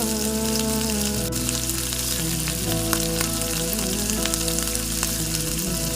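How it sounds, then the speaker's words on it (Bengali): Marinated sea fish (mourala) fry in hot oil in a wok, giving a loud, dense, continuous crackling sizzle with sharp spitting pops throughout. "তেলটি গরম হয়ে যাওয়ার পর মাছগুলি এক একটি করে ছেড়ে দেব।"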